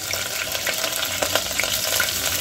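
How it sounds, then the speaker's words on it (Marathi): Whole spices, curry leaves and chillies sautéing in hot oil for Maharashtrian masale bhaat, a dense continuous crackling sizzle with faint stirring, close and fairly loud, without speech. "याला छान परतवायचा आहे"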